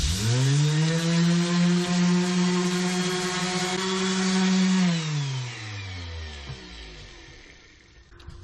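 A power sander with 240-grit paper works over a walnut sign with router-cut lettering. Its motor hums loud and steady with a high whine, then winds down and fades near the end.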